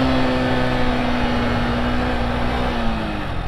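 A motorcycle engine is blipped to match revs while the rider downshifts from fourth to third and then toward second, a sustained droning engine tone that dips slightly in pitch, loud and close, with no talking.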